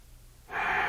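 One slow, close breath is drawn in steadily through the mouth during a back-focused yoga exercise, starting after a brief quiet moment and holding a soft, airy rush to the end.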